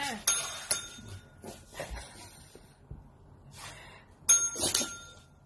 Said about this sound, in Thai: เจดีเอากระดิ่งมาดิ